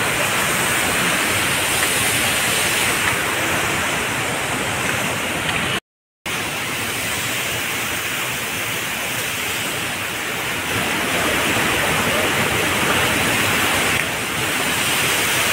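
Rushing water pours steadily at the Kapil Dhara waterfall near a Shiv temple, a loud, continuous broadband roar filling the scene with no voices and one brief dropout partway through.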